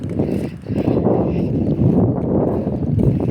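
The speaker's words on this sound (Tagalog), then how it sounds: "Ang sarap ng hangin." Steady gusty wind roars across the microphone, a low rumbling buffet that rises and falls without pause.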